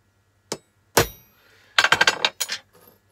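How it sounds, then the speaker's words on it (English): A hammer strikes a centre punch on a marked metal workpiece in a workshop, giving a few sharp metallic taps, one loud single hit followed by a quick cluster of ringing clinks, close and with no talking. "all we need now is a centre pop"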